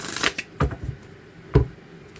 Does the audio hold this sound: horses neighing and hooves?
no